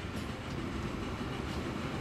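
A freight train rolls along in the Transport Fever 2 game, a steady rumble with faint rhythmic wheel clatter, moderately distant and continuous with no voices.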